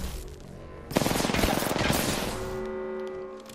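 Rapid automatic gunfire bursts out in the Apex Legends video game, a dense rattling volley lasting a couple of seconds before easing into a lingering rumble and hum.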